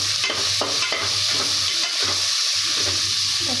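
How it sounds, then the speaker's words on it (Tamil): Ingredients for kuska rice sauté in a pot, giving a constant loud sizzle with intermittent clicks of a spoon stirring against the metal over a low background hum. "இதையும் சேர்த்து இதோட வதக்கிக்கலாம்"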